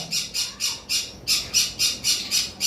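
Lovebirds at a bird farm give a run of about a dozen sharp, shrill squawks in quick, fairly regular succession, close and loud, with a brief pause partway through.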